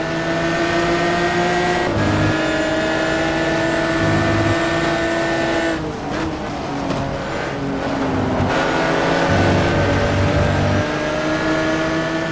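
Race car engine in a GT racing sim revs hard out of a hairpin in second gear, harmonic whine climbing in pitch with gear shifts and dips, loud and continuous throughout with no talking.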